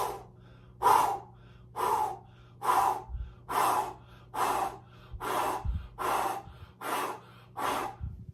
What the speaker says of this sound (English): So the breathing goes like this.